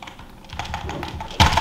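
Keys clatter on a gaming computer keyboard in steady, fast typing, near and fairly loud, with a denser burst of strikes toward the end.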